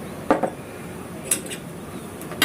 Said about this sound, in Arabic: هحط بقى نص كوبايه السكر اهو